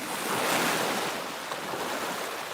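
Waves wash against the shore of the Wachusett Reservoir, a continuous rushing surf mixed with wind buffeting the microphone, fairly loud and close with no voices.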